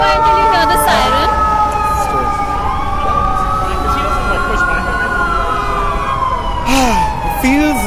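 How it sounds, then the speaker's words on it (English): Emergency vehicle siren on a New York City street, a wailing tone sweeping up and down steadily over loud traffic and crowd noise, with people talking nearby. "You're not in NY until you hear the siren."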